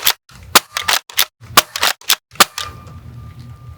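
An Adventure Force Villainator dart blaster fires a rapid volley of about eight loud, sharp pops in quick succession outdoors, then falls quiet apart from a faint hum.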